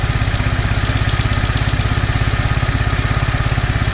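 A carburettor engine ticks over at idle, throbbing with a fast, even pulse that stays steady and loud from start to finish with no talk over it.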